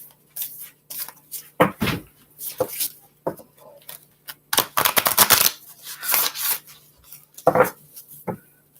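Oracle cards are shuffled in a series of irregular bursts of crisp riffling and sliding, some short and some longer, heard close up during a live reading.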